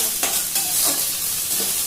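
Small cut pieces of okra frying in oil, a close, loud sizzle with rhythmic scraping strokes of a spatula stirring through the pan.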